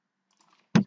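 A single sharp keystroke on a computer keyboard, typing a city name into a Joomla website weather module, close and fairly quiet, with faint clicks just before it.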